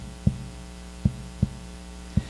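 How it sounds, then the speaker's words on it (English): Four slow, deep heartbeat thumps sound at uneven intervals over a steady low hum, close and isolated with no voices. "It's so quiet at night that when you lie in bed, you can hear your own heartbeat."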